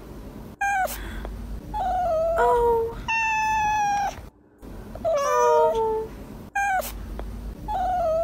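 A cat gives several drawn-out, whiny meows in quick succession, loud and close, with brief pauses between them; a person makes a couple of short exclamations.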